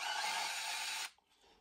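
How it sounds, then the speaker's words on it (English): A power drill bit grinds into a broken steel oil pan bolt with steady, harsh whirring, then stops abruptly, leaving a few faint clicks. "make sure you have your bit tight enough because it's going to bite into some metal"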